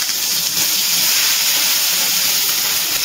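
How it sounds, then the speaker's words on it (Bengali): Onions hit hot mustard oil in a wok and set off a loud, continuous hiss of sizzling that holds steady throughout. "তেলটা গরম হয়ে গেছে, এবার এই তেলের মধ্যে দিয়ে দিচ্ছি পেঁয়াজ"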